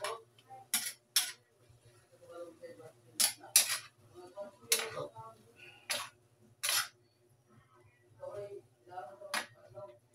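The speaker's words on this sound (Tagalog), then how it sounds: "Haluin natin." Mushrooms stirred in a pan with a utensil, giving a series of sharp scraping clinks of metal against the pan in an uneven rhythm, with a low steady hum underneath.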